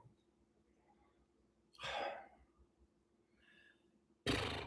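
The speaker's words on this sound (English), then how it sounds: "Cough, cough." Two short, breathy coughs come from a person in a quiet room, the first about two seconds in and the second sharper one near the end, each standing alone against faint background hiss.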